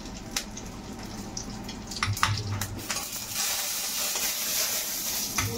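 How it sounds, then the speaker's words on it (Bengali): Dal is tempered with cumin, bay leaf and dry chili, producing a hissing sizzle with sharp spatters and stirring clatter, close by and swelling toward the end, with no speech. "আমি ডালটা ফোড়ন দিচ্ছি।"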